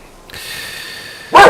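Dogs barking in the video game Banishers: Ghosts of New Eden, one short loud bark or yelp near the end over a steady game ambience hum.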